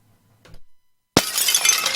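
Window glass breaking: a sharp loud crash followed by about a second of scattering, tinkling shards, preceded by a faint brief knock.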